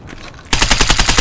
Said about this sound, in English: there's a man shooting at me